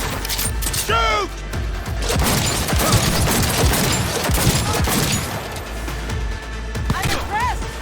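Gunfire in Cyberpunk 2077 combat: rapid bursts of shots and impacts layered with explosions and crashing debris, loud and continuous, with voices shouting over the fight.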